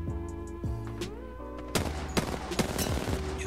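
Gunfire in the video game Apex Legends, with rapid bursts of sharp shots that start sparse and become dense overlapping fire, over a musical tonal background, no talk.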